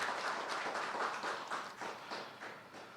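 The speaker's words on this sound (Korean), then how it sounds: "박수 한번 주세요" An audience applauds after a vocal performance at a Buddhist study class, sounding like steady, moderately distant clapping from a small crowd that slowly fades.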